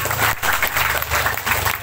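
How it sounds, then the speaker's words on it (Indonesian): Crowd applause at an Islamic religious gathering, a brief, dense burst of many hands clapping close and loud, with a low hum underneath. "Nah, tepuk tangan semuanya."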